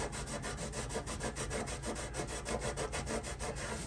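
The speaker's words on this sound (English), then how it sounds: "Okay, we'll scrub this down and move to the next step." A Scotch-Brite pad scrubbing a new faucet during installation, a loud, close, rapid back-and-forth rasping rub repeating in a steady fast rhythm throughout, with no voices.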